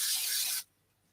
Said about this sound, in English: Spray glue.